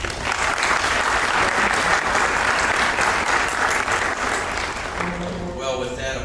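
An audience claps steadily and densely at an event in Nashville, the applause loud and sustained throughout before thinning out at the very end.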